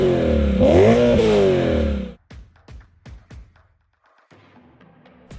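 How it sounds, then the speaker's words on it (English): BMW M3 E92 with an Akrapovic exhaust, a loud, close rev that rises sharply and falls back over about two seconds, followed by a quieter run of brief clattering hits. "let's check out how this BMW M3 sounds with the Krapovic exhaust system"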